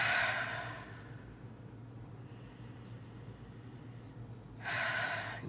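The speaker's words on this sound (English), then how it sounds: "let's take a couple of nice deep breaths" Someone takes a couple of slow, deep breaths in a quiet room, a soft airy exhale at the start and another at the end, with faint background hum between them.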